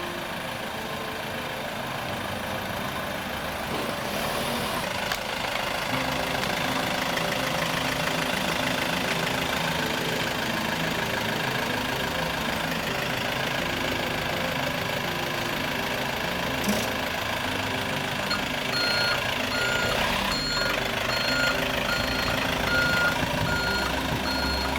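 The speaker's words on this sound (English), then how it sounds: "we're going to drive the little flatbed truck on here" A small flatbed truck carrying two pallets of paving product, over three tons, rumbles loudly with a running engine and repeated reversing beeps as it drives onto newly laid paving.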